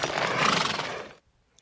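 A horse neighs in a Star Trek audio drama, one loud rising whinny lasting about a second before cutting off into near silence.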